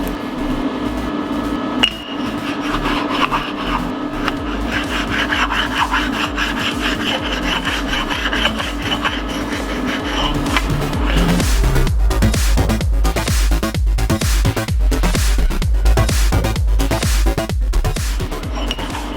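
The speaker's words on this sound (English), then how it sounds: "So I'm basically going to work over this whole deck surface and get it all back to nice shiny clean metal." Abrasive rubbed by hand across the deck surface of a 3800 L27 V6 engine block, coarse side, scraping it back to bare metal: steady rasping strokes that speed up into fast, rhythmic, loud back-and-forth scrubbing, with no voices.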